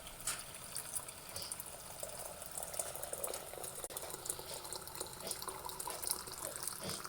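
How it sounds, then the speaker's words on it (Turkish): Boiling water pours over a teapot being cleaned with laundry bleach, a steady quiet gurgling and splashing stream that continues evenly throughout with no talking. "Hem de bunun üstüne kaynak su döktüm."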